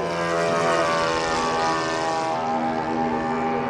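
A radio-controlled model airplane styled in Captain America colours drones past at a miniature airshow, its small propeller engine producing a steady, loud buzzing whine that fades slightly toward the end, with no talking over it.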